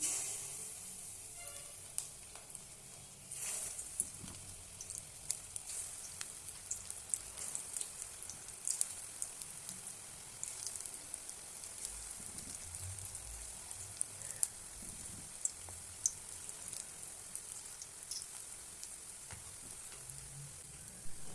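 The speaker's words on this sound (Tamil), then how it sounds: "இப்படியே எடுத்து நம்ம எண்ணெயில் போட்டுக்கலாம்" Kerala-style vada batter frying in hot oil, a soft continuous crackling sizzle with scattered pops, faint and steady with no talking.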